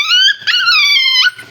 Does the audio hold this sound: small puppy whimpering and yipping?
yes